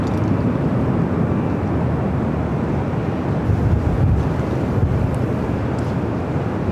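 An Alaska Airlines Boeing 737-800 arrives from Portland at Los Angeles International Airport, a loud, steady low jet rumble with wind buffeting the microphone and no break in the sound.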